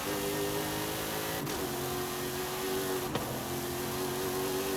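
The Cadillac DLC race car's engine in Forza Horizon 5 revs hard and steady, maxed out in S2 class, with two brief gear-shift dips in a loud, continuous drone.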